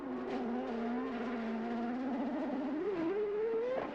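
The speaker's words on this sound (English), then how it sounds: "That is a stuck throttle if I've ever heard one." A CART race car at Mid-Ohio in 2001 runs with a stuck throttle, its engine holding a loud, steady drone that wavers and then climbs in pitch near the end as the rear tires run through gravel.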